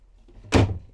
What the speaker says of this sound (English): Geez, that's a slam.